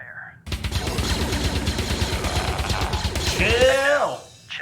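An E-11 blaster from a Star Wars fan film fires continuously on automatic, a fast, dense stream of loud pulses lasting several seconds before cutting off, with voices audible near the end.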